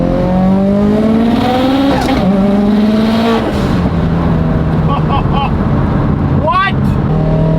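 A 1,000 whp Subaru STI running on ethanol at its lowest boost setting accelerates hard, its engine note rising through gear changes with turbo whoosh and flutter, loud and heard from inside the car, with excited voices over it.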